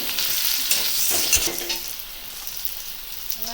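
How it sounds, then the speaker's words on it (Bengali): Chopped onions frying with salt in a pan, a dense close sizzle with brisk stirring scrapes throughout, no voices. "সবগুলো একটু লাল লাল করে ভেজে নেব। এবার দিয়ে দেবো নুন। নুন দিলে পেঁয়াজটা তাড়াতাড়ি ভেজে যাবে।"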